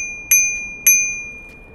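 Two bright metallic rings from the handlebar bell on a NIU KQi3 Max electric scooter, struck twice about half a second apart, each ring sustaining and fading gradually in a quiet room.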